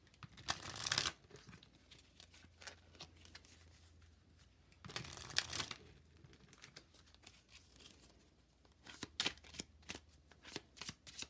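Tarot cards are riffled and shuffled in several brisk bursts, with soft handling and tapping sounds in between, close up and quiet.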